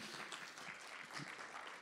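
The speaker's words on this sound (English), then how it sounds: "Round of applause for a great keynote speech." Audience at a 5G technology summit masterclass applauds a keynote speech, a brief, faint burst of scattered clapping with a few distinct claps standing out.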